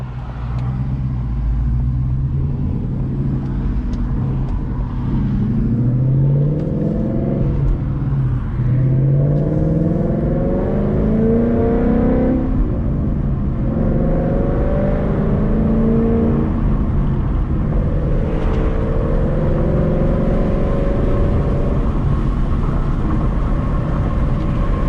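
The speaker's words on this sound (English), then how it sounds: "First pull out, initial reaction, you can definitely hear that intake." A Ford Mustang GT with an upgraded intake and a regular tune pulls away hard, its engine note rising through several rising sweeps with a breathy intake whoosh, close and loud from inside the car.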